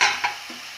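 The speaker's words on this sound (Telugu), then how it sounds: "ఇప్పుడు ఇందులో ముందుగా కట్ చేసి పెట్టుకున్న టమాటాలను వేసుకోవాలి." Chopped tomatoes dropped into a frying pan of sizzling coriander, a brief close sizzle and stirring scrape lasting under a second.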